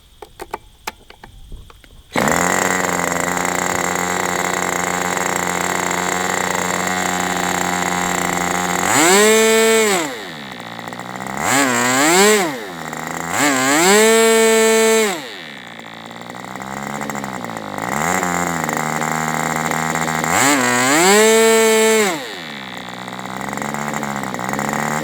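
Aviastar 46 model airplane engine running on a break-in run while its idle is being adjusted, starting abruptly and buzzing loudly and steadily, with several sharp rev-ups and drops in pitch.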